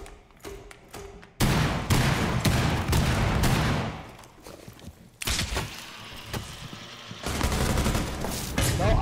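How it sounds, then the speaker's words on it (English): Bursts of automatic gunfire from the tactical shooter game Rainbow Six Siege, several sustained loud volleys separated by short gaps, with faint voices in the background. "Why are you shooting at me?"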